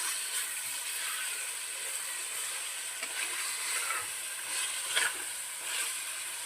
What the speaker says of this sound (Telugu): దీన్ని ఇప్పుడు కలుపుకుందాం